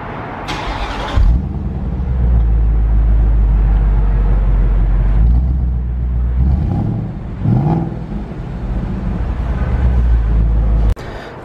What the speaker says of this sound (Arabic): والحين نشغل السيارة ونسمع صوتها.